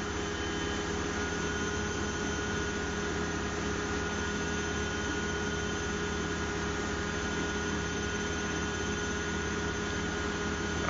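Zanussi washing machine spinning at 1000 RPM, a loud steady whirring drone with a constant high rushing hum and no pauses.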